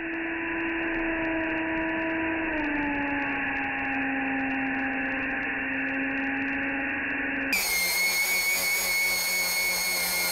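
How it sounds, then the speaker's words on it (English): A blender with a resin 3D-printed rotor spins at high speed against cucumber, producing a steady tonal motor whine that sags slightly in pitch before jumping abruptly higher and harsher near the end. "the rotor spins so fast, only the really top of the flat face hit the cucumber"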